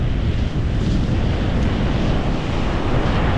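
Strong seaside wind roars steadily across the microphone, a constant loud broadband rush blended with the wash of surf, with no voices.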